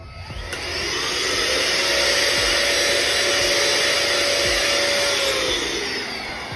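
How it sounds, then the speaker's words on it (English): Handheld vacuum running over a mattress to suck up sprinkled baking soda, a steady close whine that spins up at the start and holds loud and even with no talk. "and then grab a handheld vacuum."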